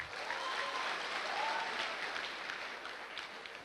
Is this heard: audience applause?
yes